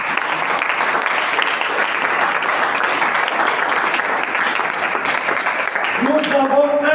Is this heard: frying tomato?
no